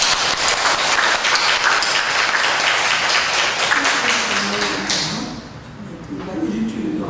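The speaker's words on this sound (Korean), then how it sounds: "큰 박수 한번 드립시다" A church congregation breaks into loud, sustained applause during a Sunday worship service, a dense roar of clapping that cuts off after about five seconds, followed by someone speaking in the quieter room.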